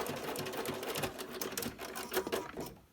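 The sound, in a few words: sewing machine stitching cloth mask with elastic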